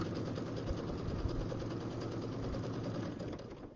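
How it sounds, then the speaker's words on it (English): A sewing machine stitches steadily across an overlapping fabric seam on an Easter bench pillow, a continuous fast mechanical whir heard close and fairly quiet, with no speech. "I am going to sew over it"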